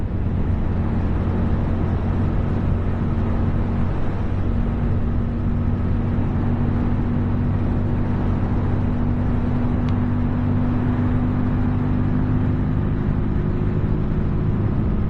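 A 2023 QJ Motor SRV300 motorcycle powering out of a corner: a loud, continuous engine drone with a steady low hum and heavy wind rush, unbroken throughout.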